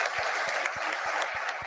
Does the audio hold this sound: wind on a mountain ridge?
no